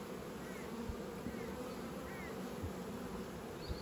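Honey bees buzz on a hive frame during gentle beekeeping, a steady close drone of many wings with individual bees passing nearby, and a few soft knocks underneath.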